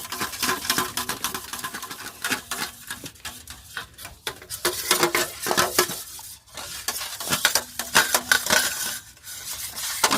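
Eggs are whisked in a bowl with steady rapid scraping and tapping strokes, the rhythm continuous and close with short pauses.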